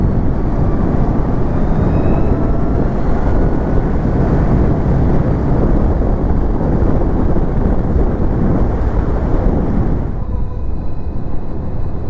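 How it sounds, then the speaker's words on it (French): Loud, steady engine and road rumble fills the whole stretch from inside a moving car with a distant engine somewhere behind, dipping slightly near the end; no talk. "Je me demandais c'était quoi le moteur qu'on entendait. En fait c'est la voiture que j'ai doublée qui était loin."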